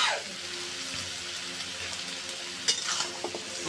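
Radish and potato dropped into oil with crushed spice paste, a steady dense frying hiss with a couple of short stirring clatters near the end, no one speaking.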